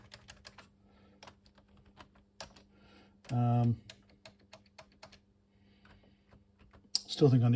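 Scattered keys on a Byte ZX Spectrum clone computer keyboard click softly and irregularly, with a couple of louder bursts of sound breaking in.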